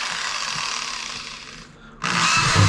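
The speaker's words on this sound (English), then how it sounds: "all you have to do is drill your holes" A power drill bores holes into a plastic mushroom monotub, a loud, close whine that eases off and briefly drops out before starting up again at full strength, with no speech.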